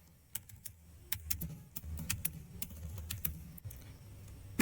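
Someone types on a computer keyboard in the Spyder Python editor, a quick, irregular patter of close, crisp key clicks over a low background hum, with no voice.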